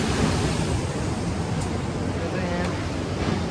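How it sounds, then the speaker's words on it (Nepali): Water rushing through the intake gate of the Superkhudi hydropower project, a dense, continuous roar close by, steady and unbroken for the whole stretch. "यसरी चाहिँ त्यहाँबाट चाहिँ पानीहरू सरर बगिरहेको छ"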